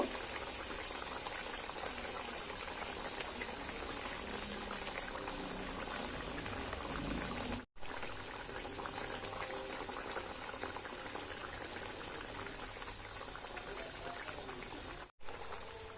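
Ban fish (eel) curry simmers in a pan with a steady, dense bubbling hiss that runs without a break, apart from two brief dropouts, and no voices.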